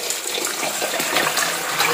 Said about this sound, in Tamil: அதே அளவு தண்ணியே ஊத்துறோம் பாருங்க